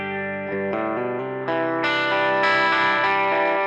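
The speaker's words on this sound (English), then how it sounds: "Got that really nice kind of edge of breakup thing going on there." A warm, slightly gritty electric guitar through a budget valve amp plays sustained chords, just starting to break up into mild overdrive, growing louder and brighter as it rings.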